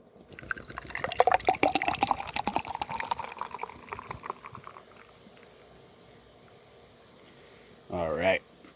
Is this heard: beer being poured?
yes